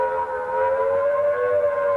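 A civil defense warning siren from 1968 sounds as a steady, sustained wailing tone, loud and unbroken for two seconds with no voices.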